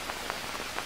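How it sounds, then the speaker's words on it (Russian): Steady rainfall in the survival game Green Hell, a continuous hiss of drops on surfaces with soft periodic swells, no voices. "Дожди идут постоянно."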